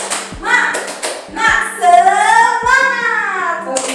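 Classroom of children doing a rhythmic 'tepuk semangat' chant-clap, sharp hand claps landing in quick patterns, with bright sung or chanted voices carrying over and between the claps.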